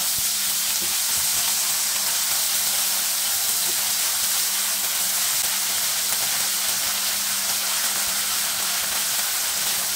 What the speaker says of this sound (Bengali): এখন পেঁয়াজগুলো ভাজা করে একটু দিয়ে দিব আদা রসুনের পেস্ট দিয়ে কিছুক্ষণ ভাজা করে নিব।